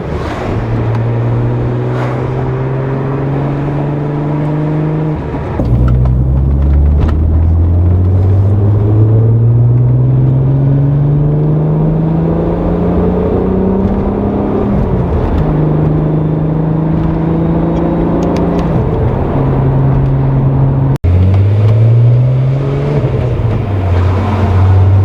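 Volkswagen VR6 engines, 2.8L and 3.2L, rev loudly and continuously, the pitch climbing and dropping through repeated throttle sweeps with a deep, full exhaust tone and no talking over it.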